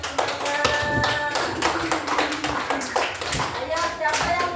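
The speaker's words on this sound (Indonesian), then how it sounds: "Luar biasa, tepukannya yang semangat." Students in a classroom clap enthusiastically, a dense, rapid patter of many hands that stays steady throughout, with voices calling out over it.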